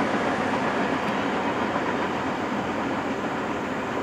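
Norfolk Southern NS 271, a freight train hauling empty cars, rolls past in a steady, loud rushing rumble of wheels and wagons, unbroken for the whole stretch with no voices.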